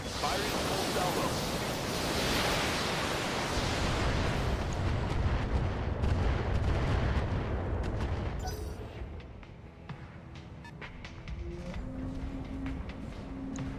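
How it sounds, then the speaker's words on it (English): A BattleTech mech lets loose a full weapons salvo, a long roaring wall of blasts and rumbling explosions for about eight seconds that then fades into quieter crackling and hum. "Firing full salvo."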